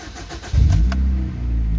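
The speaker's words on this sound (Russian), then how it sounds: "Вот, завожу, машина холодная" A cold 2004 Mazda Tribute with a 2.3-litre L3-VE engine cranks briefly and catches, then settles into a steady loud idle close by, alone without talk.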